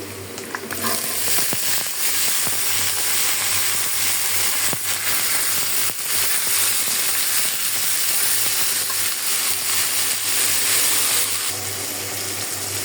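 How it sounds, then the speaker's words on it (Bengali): Loud, steady sizzling of eggplant frying with onion in a hot wok, a continuous hiss with a few faint clinks of stirring, no voices. "এখন আমি বেগুনটা একটু বেজে নিব পেঁয়াজের সাথে"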